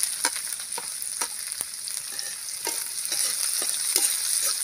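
Onions go into hot oil with golden-browned garlic for homemade burger patties, making a continuous bright sizzle close up, broken by irregular clicks and taps of stirring, with no talking.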